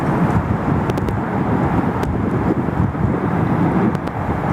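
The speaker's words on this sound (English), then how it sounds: "A long takeoff roll there from Etihad." An Etihad airliner rolls down the runway at Sydney Airport on takeoff, a steady, heavy rumbling engine roar heard from a distance, buffeted by wind noise on the microphone.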